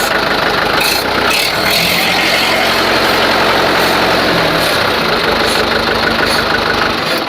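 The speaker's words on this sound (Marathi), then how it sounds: "पाहू शकता थोडे रे रेस होणार ट्रॅक्टरची" A second-hand Mahindra 575 tractor engine with four thousand hours idles loudly close by, then revs up in a sustained roar before settling back to a rumbling idle.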